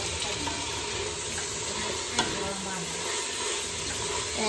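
Masala for prawn biryani sizzles in a pan and is stirred, a soft, steady frying hiss with a brief scrape of the spoon, quiet and close.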